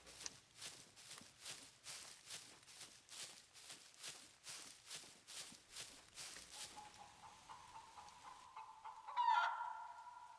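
A chicken clucks faintly somewhere nearby beneath a steady, rhythmic run of footsteps, with one louder call rising near the end once the steps stop.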